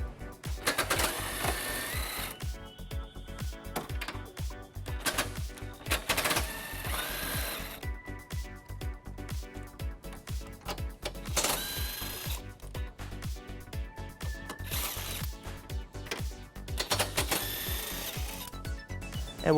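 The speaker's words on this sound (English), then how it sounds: "we're going to remove those using an 18mm socket" A socket wrench with an 18mm socket backs out the rear bumper beam bolts on a 2014 BMW X5. A steady, close, fast ratcheting clatter runs through the whole passage, with short louder bursts along the way.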